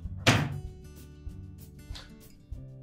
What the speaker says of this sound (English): Then we can close that door up again.